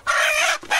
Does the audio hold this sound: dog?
no